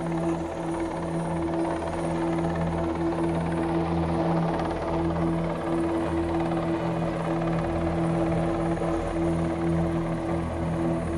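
A rescue helicopter hovers over a rescue boat during an exercise just offshore near Sandgerði, Iceland, making a loud, continuous rotor drone with a steady tonal hum throughout.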